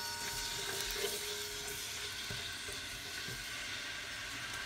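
Chopped onion sizzles in oil in a large cooking pot, a steady, soft, hissing crackle with a few faint clinks.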